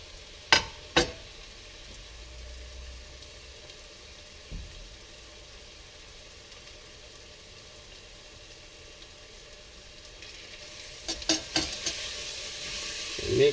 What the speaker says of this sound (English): fry it a bit longer on a low heat